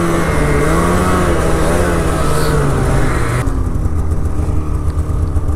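A motorbike engine revs hard on the throttle climbing a hill, loud and close with a rising, wavering drone that dips in pitch as the load changes, with no speech over it.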